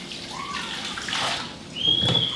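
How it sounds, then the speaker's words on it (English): Water is poured into a pot holding beef liver, a steady splashing pour with a rising gurgle, close and fairly loud, with no voices. "I'm gonna put like 24 ounces of water in there."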